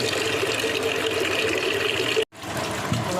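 Tap water running steadily over potatoes being washed at a home kitchen sink, a close continuous gushing flow that breaks off abruptly near the end, then resumes, with no talk.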